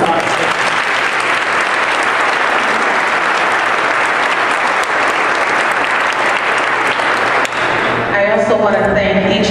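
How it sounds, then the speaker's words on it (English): Audience applause at a Detroit LISC 20th anniversary celebration, a loud, steady wash of clapping from a large crowd that holds for about eight seconds before a voice begins speaking over its fading end. "Let's give them a round of applause."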